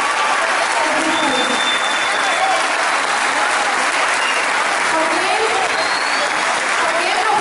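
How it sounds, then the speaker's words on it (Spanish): An audience at the launch of the Jujuy Habitat housing programme in Jujuy province breaks into sustained applause for Gerardo Morales, a thick, even roar of many hands clapping close by, with faint voices mixed in. "yo pido un enorme aplauso por el liderazgo de Gerardo Morales"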